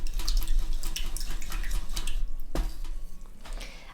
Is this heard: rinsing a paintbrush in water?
yes